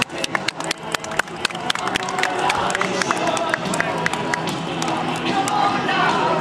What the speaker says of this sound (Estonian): siitpoolt loomulikult aplausi saatel ta teele läheb